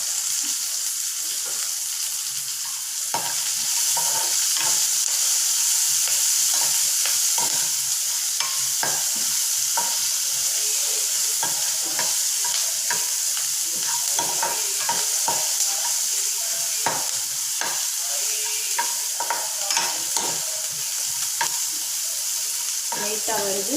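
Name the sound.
onions sautéing in a pan with salt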